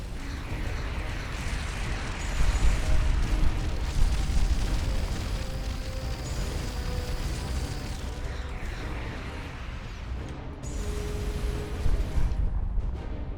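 Missile explosions in the Starcom Nexus space game, a continuous dense rumble of booms and bursts layered over engine drone, fairly loud and steady throughout with no talk.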